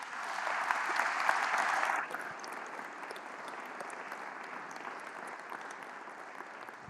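Congregation applause in a church during a Sunday service, a broad steady wash of clapping that swells loudest in the first two seconds, then drops to a softer, sustained patter.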